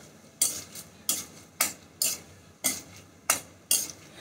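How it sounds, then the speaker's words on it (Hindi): Spoon or spatula scraping and stirring in a pan as cashews brown for coconut rice sevai, about eight sharp rhythmic strokes over a steady low sizzle, close and clear with no talking. "थोड़ा सा बस कैशनट्स ब्राउन हो जाए तब तक हम वेट करेंगे।"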